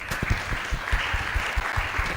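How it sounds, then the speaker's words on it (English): A conference audience applauds its discussion panelists, steady dense clapping from a seated crowd with a few sharper nearby claps standing out, sustained throughout. "Let us give a round of applause to our panelists."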